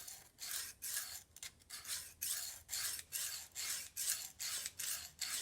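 A long fillet knife scrapes back and forth across a Lansky sharpening hone in steady strokes, each a bright rasping pass with short pauses between. It is close and alone, with no voices.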